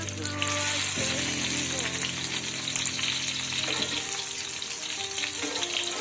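Steady, loud sizzling of green tomatoes frying in hot oil, continuous throughout with faint clinks in the background.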